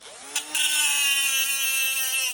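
An angle grinder spins up against a piece of brass with a short rising whir, then holds a steady, close, high-pitched whine for about two seconds before cutting off.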